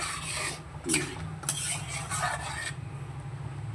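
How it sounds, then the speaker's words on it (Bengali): A spoon scrapes and stirs through a wet prawn and taro curry in a pan, with soft rasping strokes repeating steadily and close, and no one talking. "দেখো জলটা দিয়ে বেশ সুন্দর করে একটু নেড়ে দেবো তরকারিটাকে"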